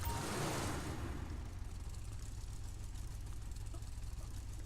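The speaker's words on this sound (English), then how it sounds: "I hope you guys can hear the engine." A muscle car engine in a GTA video game idles with a low, steady rumble after a brief louder rev at the start, quiet and even throughout.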